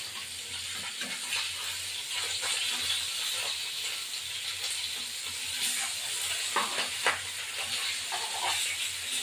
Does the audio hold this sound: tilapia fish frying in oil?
yes